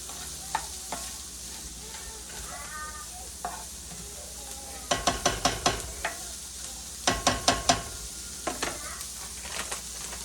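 Lasagna ingredients sauté in a pan on the stove, with a steady sizzle and close, clattering bursts of a spoon stirring and scraping in quick runs, no voices.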